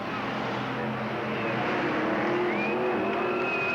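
Race cars roar around Cottage Grove Speedway at a 1991 race, a dense, continuous engine drone, loud and steady, with a faint rising whine from one car passing.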